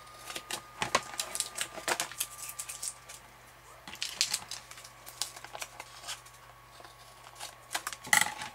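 Scissors snip in short irregular bursts, close and crisp, with quiet pauses between cuts and a faint background hum.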